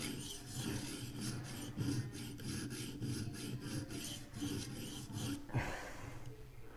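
Steady back-and-forth rasping of a knife blade edge being honed on a Vipersharp sharpener to clean up scratches, rhythmic strokes close and fairly loud, with a brief pause and a sharper scrape near the end.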